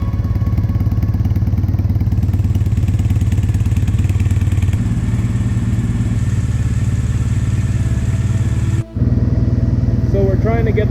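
A Triumph Bonneville motorcycle twin engine idles close by with a steady, even thrum and mechanical clatter, briefly cutting out for a moment before running on, while a voice speaks over it.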